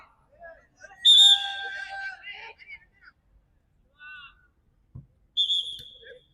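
Referee's whistle at an under-18 sevens football semi-final in Mumbai, with two sharp, loud blasts of about a second each, separated by scattered crowd calls and shouts.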